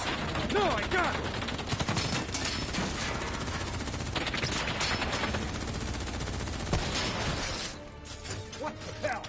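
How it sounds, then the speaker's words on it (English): Heavy gunfire in the Call of Duty Black Ops 3 campaign: dense, continuous automatic shooting with crashing impacts, loud and close throughout, easing near the end, with voices shouting under the din. "What the hell? Who's shooting?"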